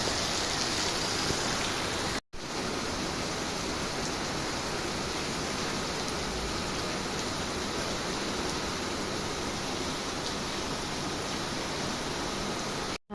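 Steady, heavy rain pours down in a dense, continuous hiss with no voices, broken only by a split-second gap partway through.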